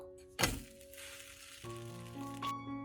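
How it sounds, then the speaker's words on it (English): Egg and cheese bread toast sizzles in a pan right after being flipped, a sharp thunk followed by a steady crackling fry with tonal hum beneath, close and moderately loud. "After cooking it for a minute, I'm going to flip it now."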